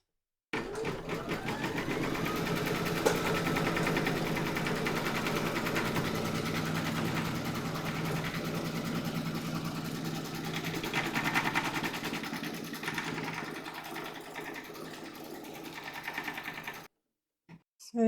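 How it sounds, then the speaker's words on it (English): An embroidery machine stitches a round of a Halloween kitty design on fabric in a hoop, a steady, fast mechanical whirring with rapid needle clatter running continuously and close up, then stopping abruptly near the end. "Pop your hoop into your machine and stitch round number 3 to secure them."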